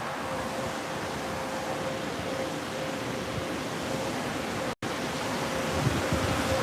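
A loud car wash runs nearby, producing a continuous, dense roar like rushing water and blowers that stays steady for several seconds, with one brief dropout and no talking.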